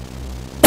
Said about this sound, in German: Ich muss mal husten.